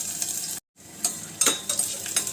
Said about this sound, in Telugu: ఒక ఉల్లిపాయ రెండు పచ్చిమిరపకాయలు ముక్కలుగా చేసుకుని అవి కొంచెంగా వేయించుకోవాలి